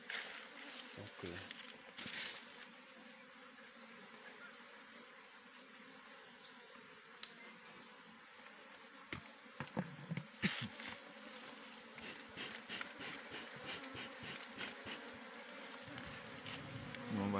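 Honeybees buzz around an open hive during a honey harvest, a continuous close insect hum with individual bees zipping past the listener now and then, and faint talking at times.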